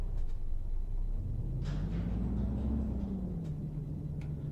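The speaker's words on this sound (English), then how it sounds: "I love the sound of this truck." A steady, low engine drone of a MAN Euro 6 truck in Euro Truck Simulator 2 rumbles continuously, its pitch rising slightly and then settling, with no voices.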